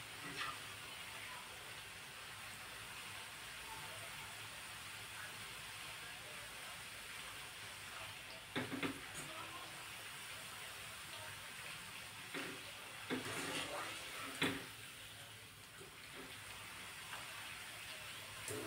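Potato chips frying in hot oil, a faint, steady bubbling hiss running throughout with a few soft clinks and stirring knocks.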